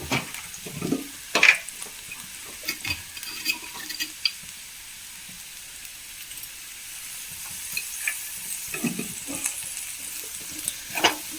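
Potato and brinjal masala frying in oil in a pan, a soft steady sizzle with intermittent louder stirring scrapes and clatters, fairly close and moderate in level.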